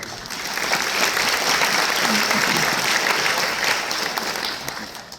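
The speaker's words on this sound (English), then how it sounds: "Round of applause." Dense, sustained applause from a large audience at a Webster University commencement ceremony, loud and steady for about five seconds before tapering slightly at the end.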